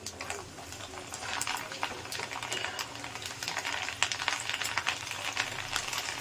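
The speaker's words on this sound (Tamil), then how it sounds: "கரண்டியில் கொஞ்சம் கொஞ்சமாக பருப்பு போட்டு நல்லா நம்ம வறுத்துக்கலாம் இதில்" Lentils frying in hot oil give a close, busy crackle and sizzle, with frequent sharp pops and spatters over a steady hiss throughout.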